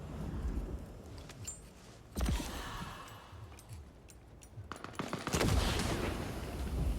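Gunfire and grenade explosions in the video game Bloodlines 2, with sharp rattling shots and heavy booming blasts in irregular bursts, loud and close.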